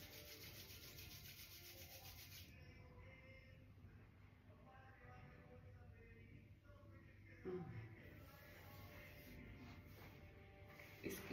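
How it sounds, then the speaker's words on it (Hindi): Palms rubbed together after a face yoga exercise, a soft continuous brushing friction that runs steadily throughout, close and quiet, with a faint bump near the middle and at the end. "अब कोई भी एक्सरसाइज करने के बाद फेस का आपको हमेशा अपनी हथेलियां रब करनी है।"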